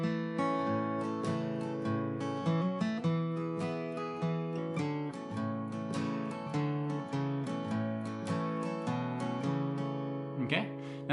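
An acoustic guitar plays the intro riff of the Rolling Stones' "Sweet Virginia" with added up strums, a steady rhythmic run of bright ringing strums heard close and alone.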